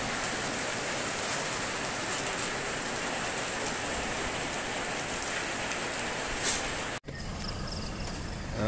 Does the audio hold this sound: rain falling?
yes